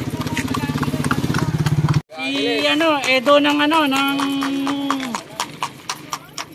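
Racehorses in a horse race pound along in rapid, continuous clip-clopping hoofbeats, loud and close, broken by a long whinny-like call while someone talks over the action.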